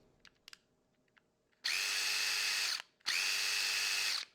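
DeWalt impact driver running in two loud bursts of high whirring, each over a second long, separated by a short pause, after a few faint handling clicks.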